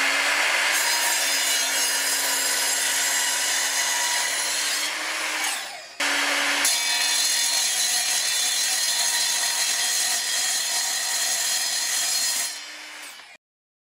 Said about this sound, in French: on est sur une scie à onglet 2000 watts